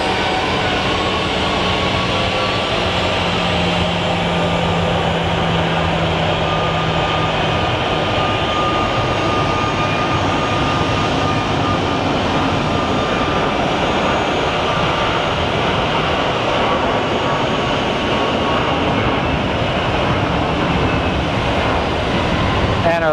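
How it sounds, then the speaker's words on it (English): Airliner on its takeoff roll at Phoenix Sky Harbor, bound for Houston: a loud, steady broadband jet roar that holds for the whole stretch, with a constant whine on top. "And our flight to Houston is on full roll."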